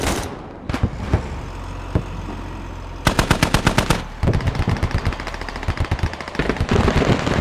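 Vehicle-mounted gun in the video game Squad fires at a house, with several single loud shots followed by rapid automatic bursts of close, sharp gunfire over an engine rumble.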